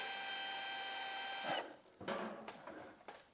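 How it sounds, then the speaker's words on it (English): Screws on the valve body of a Mercedes 722.9 7G automatic transmission being worked loose, with a steady whirring tool tone that cuts off, then a few close metallic clicks and scrapes. "I'm going to start removing these screws"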